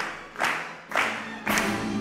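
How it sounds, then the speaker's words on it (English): A large audience claps in unison at a competition talk, giving three loud collective claps at roughly even intervals with no music. "Please, can everybody clap to the music?"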